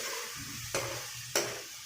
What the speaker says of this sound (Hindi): थोड़ी देर ही उसको फ्राई करेंगे हम लोग,